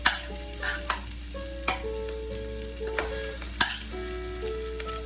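Rice tossed into a buttered pan for Korean fried rice sizzles steadily, with sharp scraping stirs and clanks of a utensil recurring every second or so, close and moderately loud, with no talking.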